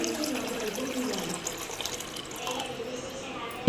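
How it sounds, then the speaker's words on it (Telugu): Water runs and splashes into a steel cooking pot, about half a litre, in a home kitchen while making tomato rice; a steady close pouring sound that ends abruptly with a clatter. "గిన్నెలో ఒక హాఫ్ లీటర్ వరకు మనం వాటర్ తీసుకున్నాం"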